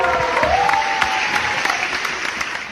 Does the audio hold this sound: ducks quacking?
no